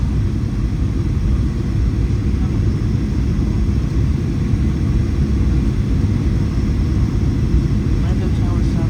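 A Southwest Airlines Boeing 737-8H4 lands on runway 35 right, heard from inside the cabin as a loud, steady low rumble of engines and airflow.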